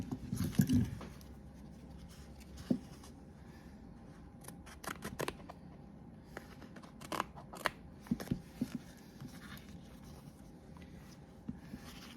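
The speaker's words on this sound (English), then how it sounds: "I think I picked like the worst scissors ever." Scissors snip several times in quick irregular bursts, close and fairly quiet, with soft handling rustles between cuts.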